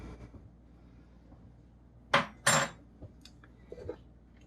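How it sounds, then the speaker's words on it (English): Camp coffee stirred in a pot, with two sharp scraping, clattering bursts of utensil against metal followed by a few faint light clinks in a quiet setting. "Stir it up."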